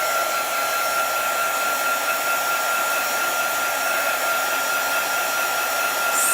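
A hot air gun blows steadily at close range to dry ink on a chalk craft project, a loud, even whooshing roar that holds without break and with no voices.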